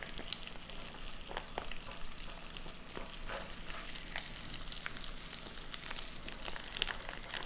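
Sausage for southern biscuits and gravy sizzles in a pan with a steady crackling hiss, punctuated by scattered pops and occasional stirring scrapes, close and continuous without talk.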